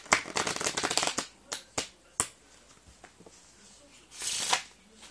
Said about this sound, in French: Je vais faire un mélange américain.